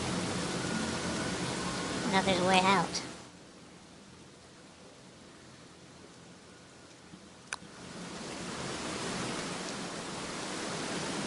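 Steady hissing rainfall in the survival game Don't Starve, a broad wash of noise that dips quieter for several seconds mid-stretch before swelling back, with a voice talking over the start.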